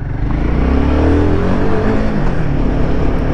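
A Royal Enfield Himalayan 450, its 452cc single-cylinder liquid-cooled engine revving hard and steadily for a few seconds, loud and close with a deep throbbing drone and no talking.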